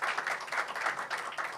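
Audience applause welcoming a BPI innovation lead onto a round-table stage at a sportech event, a steady wash of many hands clapping at moderate distance, even and sustained throughout with no break.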